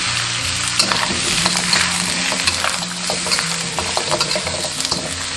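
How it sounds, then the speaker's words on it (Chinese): Pig trotters stir-fried in a wok with star anise, bay leaves, cinnamon bark and dried chilies, giving a steady loud sizzle with scraping stir strokes and occasional utensil clinks throughout, no talking. "炒香后下入猪蹄， 把猪蹄的水分炒干过后，沿锅边淋1圈高度白酒，加入八角、香叶、桂皮、干辣椒"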